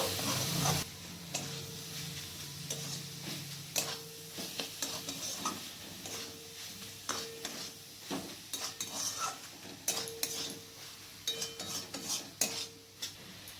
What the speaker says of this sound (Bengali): মশলার সাথে সয়াবিনগুলোকে ভালো করে নাড়াচাড়া করে মিশিয়ে নেব।